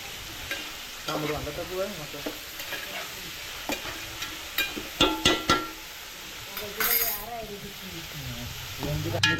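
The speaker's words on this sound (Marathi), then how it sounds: "आता हलकासा कांदा शिजवून झालेला आहे" Onions frying in a pan for prawn biryani, with a steady low sizzle under repeated stirring and scraping clicks that get sharper toward the middle, plus faint background voices.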